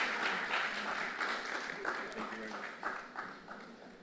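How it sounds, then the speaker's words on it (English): Audience applause at a pre-budget discussion and magazine launch, a steady patter of many hands clapping at moderate distance, fairly soft, with voices talking over it. "We can clap."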